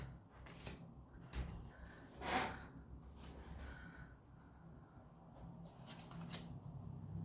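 Tarot cards being shuffled produce quiet, close riffling bursts and short papery flicks, scattered irregularly over near silence.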